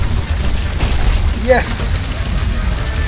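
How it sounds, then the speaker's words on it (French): Explosions in the video game Suicide Guy make a loud, continuous booming rumble. A brief voice cuts through midway. "Explosion everywhere."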